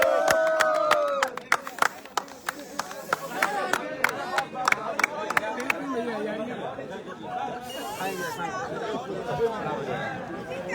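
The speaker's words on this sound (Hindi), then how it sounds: "केक कटने जा रहा है और ये देखिए प्लास्टिक का ताली बजाइए" A crowd claps at a cake cutting: scattered, sharp handclaps, some in quick runs, over loud chatter and babble of many voices close by.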